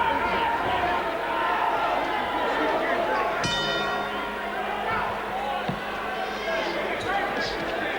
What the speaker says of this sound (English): That's the bell that begins the 11th round for the WBC World Light Heavyweight Championship